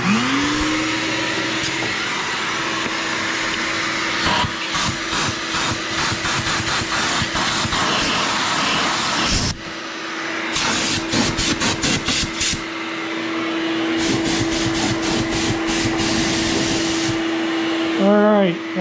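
Shop vacuum sucking debris from a wire channel in a 1959 Chevy Bel Air, a steady loud motor whine running throughout, broken by rattling bursts as debris is pulled through, with a brief dip partway.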